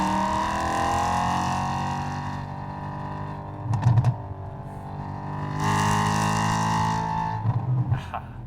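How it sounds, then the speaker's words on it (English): A BMW E92 M3's exhaust burbles with a deep, steady drone, broken by two sharp clusters of crackling pops, each followed by the engine note swelling again. "The burble is fun to me. It's kind of like a party trick"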